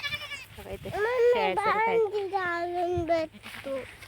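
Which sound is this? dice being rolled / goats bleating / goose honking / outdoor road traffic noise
goats bleating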